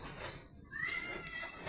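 A cat lets out a single faint, thin meow that rises in pitch. The setting is otherwise quiet and there is no talking.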